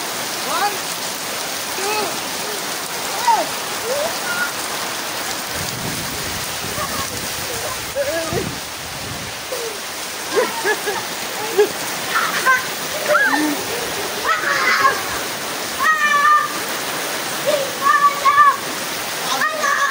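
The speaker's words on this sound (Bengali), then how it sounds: "জোর বৃষ্টি শুরু হয়ে গেল।" Heavy rain pouring down outdoors, a dense continuous hiss of drops splashing on surfaces, steady and loud throughout, with people talking over it in the second half.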